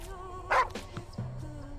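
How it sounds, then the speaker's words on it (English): A happy puppy in the video game The Last Crown: Midnight Horror gives a couple of short, bright barks and yips, with a sharp burst early and a softer one later over quiet game ambience. "It's a happy puppy."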